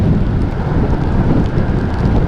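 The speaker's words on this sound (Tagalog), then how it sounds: "umuulan na naman." Steady rain hisses during a motorcycle ride, with rumbling thunder and wind buffeting mixed into a dense, constant wash of noise.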